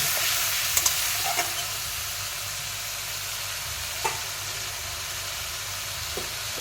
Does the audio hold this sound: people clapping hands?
no